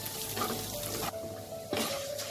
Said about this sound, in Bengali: মুগ ডালটা আমি এবার লাল লাল করে ভেজে নেব।